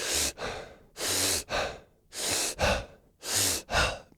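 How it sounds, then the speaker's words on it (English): Four cycles of deliberate breathing exercise, each a long drawn inhale followed by a short sharp exhale, close and alone in a steady rhythm with brief pauses between. "a long inhale with a short exhale, it creates a more amplified state, AKA a feeling of stress"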